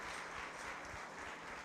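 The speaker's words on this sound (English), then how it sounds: "let's give these three kids a nice round of applause for making it this far today" Dense applause fills the arena at the 2021 Carroll County 4-H Fair swine show, a brief, continuous wash of many hands clapping close and fairly loud, with no voices on top.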